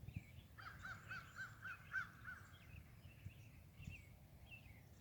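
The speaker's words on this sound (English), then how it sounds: "You can really hear the birds out in the woods" Crows cawing out in the woods during a late-winter snowmelt walk, a faint run of repeated harsh calls over soft outdoor background rumble, heard at a distance.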